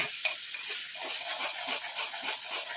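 Gooseberries sizzle and hiss steadily in oil over a low flame while being stirred, with soft repeated scraping strokes running through a constant close frying crackle.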